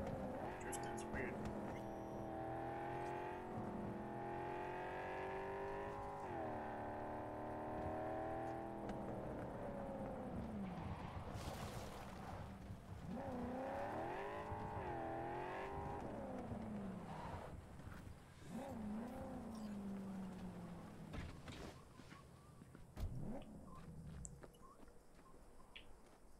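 A car in Cyberpunk 2077 drifts and revs, its engine droning and rising and falling in pitch as the tires scrub, with speech running over the engine through much of the stretch.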